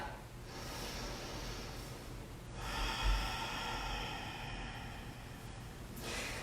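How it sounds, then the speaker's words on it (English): Deep, slow breaths during a beginner yoga session, with a long inhale and exhale heard close and soft over a quiet room, the breathing swelling and fading in gentle waves. "So deep breaths, just starting to expand the breath"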